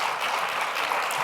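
Audience applause closing a climate summit panel at the University of Colorado Boulder, a dense, steady patter of clapping throughout with no voices over it.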